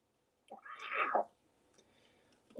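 A cat lets out one drawn-out, loud meow close by, a yowling cry that swells and then fades, and a second call starts right at the end.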